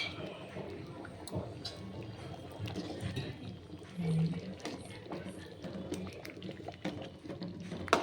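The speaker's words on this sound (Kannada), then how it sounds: "ಉರಿ ಜಾಸ್ತಿ ಇಡಿ ನೀರು ಚೆನ್ನಾಗಿ ಕುದಿಬೇಕು" A pot of water kept at a hard boil over a high flame gives a steady, diffuse bubbling hiss that runs continuously at moderate volume, with a slightly stronger burst midway.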